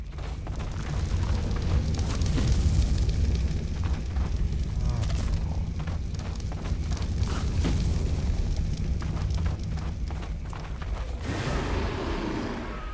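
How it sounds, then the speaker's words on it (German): A loud, sustained rumbling explosion in the video game ARK: Survival Evolved, with deep booming low end and crackling debris, rolling on for several seconds before tapering into a hissing tail. "Ich wollte doch gerade eine Rundum-Explosion machen, oder nicht?"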